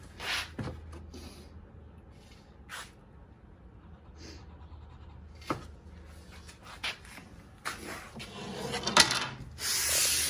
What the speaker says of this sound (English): anytime you're gonna stain something like a raw piece of wood like this, always sand it first.